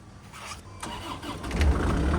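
An abandoned excavator's engine cranks and catches after its battery has charged for about ten minutes, the starter whir rising into a low rumbling run that grows louder toward the end, heard alone without voices.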